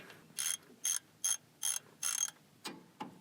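Ratchet loosening the differential drain plug on a Toyota Tacoma: five quick, close bursts of clicking in an even rhythm, followed by two softer strokes, all fairly quiet with no talk.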